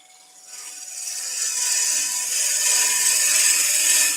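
A turning tool cuts a rippled ash bowl on a wood lathe. A smooth, hissing shave rises from quiet and grows into a steady, loud cut that holds for several seconds, with no talk.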